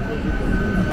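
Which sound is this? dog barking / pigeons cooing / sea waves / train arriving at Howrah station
train arriving at Howrah station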